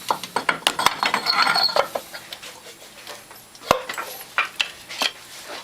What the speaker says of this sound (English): so we knock this axle in here